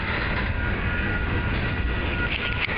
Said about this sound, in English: Covered hopper cars that we saw earlier in Jewett.